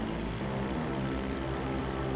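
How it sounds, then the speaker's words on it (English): A propeller airplane engine in the GTA 5 video game drones steadily and loudly throughout, a continuous low mechanical hum with no voices over it. "This plane don't want to go up anymore"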